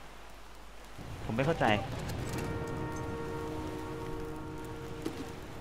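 Steady rain falls in The Flame in the Flood, a soft constant hiss under someone talking briefly, with a faint sustained musical tone behind it.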